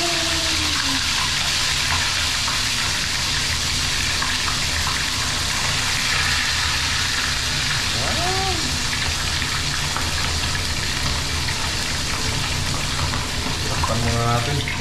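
Salted fish sizzles in hot cooking oil, a loud continuous crackling hiss close by, with brief voices rising over it now and then.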